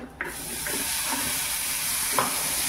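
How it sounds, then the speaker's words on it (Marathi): Boiled peanuts dropped into hot ghee in a pan, giving a steady close hiss and sizzle with a few soft stirring scrapes and knocks and no talking. "आता हे उकडले ते शेंगदाणे त्याच्यात टाकते"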